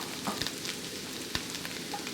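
Hard vegetables stir-frying in a hot wok give a faint, steady sizzle with a few soft ticks and clicks from stirring.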